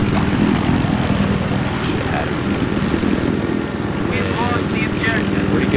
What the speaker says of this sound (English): I just gotta watch out for the helicopter